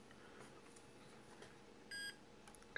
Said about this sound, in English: Okay, we can hear a beep.